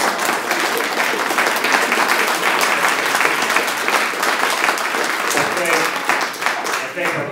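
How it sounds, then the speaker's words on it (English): An audience at a Savannah mayoral candidates' forum gives the candidates a round of applause, a loud, continuous wash of many hands clapping close by that holds steady and eases slightly toward the end. "Please give them a round of applause again"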